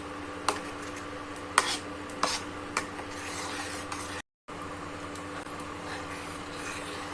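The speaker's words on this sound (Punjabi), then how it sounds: "ਇੱਕ ਚਮਚ ਦੇਸੀ ਘਿਓ ਤਿੰਨ ਤੋਂ 4 ਮਿੰਟ ਤੱਕ ਮਸਾਲੇ ਨੂੰ ਹੋਰ ਪਕਾਵਾਂਗੇ" Masala cooks in desi ghee in a pan with a steady sizzling hiss, broken by a few sharp scraping clicks of a utensil against the pan early on and a brief dropout partway through.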